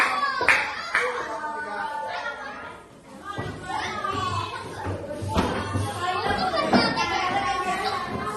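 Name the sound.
classroom applause for group A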